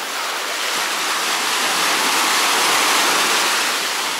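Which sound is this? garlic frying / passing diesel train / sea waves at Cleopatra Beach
sea waves at Cleopatra Beach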